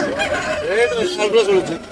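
A rooster at the Kundadam livestock market near Tiruppur gives a few rising and falling calls close by, with the busy market noise and people's voices around it.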